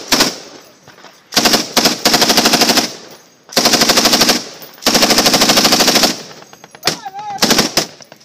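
Heavy machine gun fire during combat between US forces and Taliban in Afghanistan, several long rapid bursts separated by short pauses, very loud and close, with a brief shout near the end.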